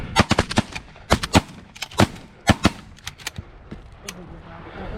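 Shotgun blasts fired at birds during a field hunt from an A-frame blind, a rapid cluster of sharp, loud reports in irregular bursts, several shots close together then a few more, with faint voices between.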